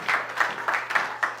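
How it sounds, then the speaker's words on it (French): Congregation applause in a church, heard as rhythmic bursts of group clapping in a steady pulsing pattern at moderate level, with a faint low hum beneath. "Applaudissons pour la gloire de Dieu."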